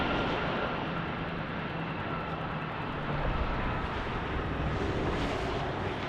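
An Airbus A319 airliner roars steadily and loud at a Las Vegas airport, the broadband engine noise holding unbroken throughout with a slight swell toward the end.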